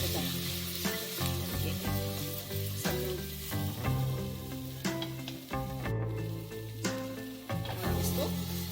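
Raw, hairy tinde (apple gourd) tossed into hot oil and masala for Punjabi-style masaledar tinde, the pan shaken rather than stirred: a steady, close sizzle under a low, sustained tonal hum.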